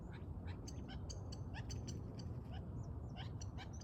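Birds calling in a riverbed, several chirps and calls repeating over a steady broadband wash of light rain or flowing water, fairly faint and in the open.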